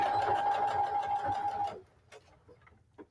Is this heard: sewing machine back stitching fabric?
yes